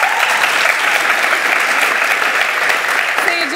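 A studio audience on a Turkish television panorama show about Survivor applauds in a loud, even, continuous wash that holds steady throughout, with a faint voice rising briefly near the end.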